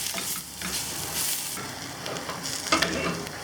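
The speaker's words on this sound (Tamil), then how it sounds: "இப்போ இதை வந்து நல்லா வெங்காயத்தோடு நல்லா வதக்கி விட்ருவோம்." Cooked mutton sautéing with onions in a pan for mutton masala: a steady close sizzle with repeated scraping stirs of a spatula against the metal.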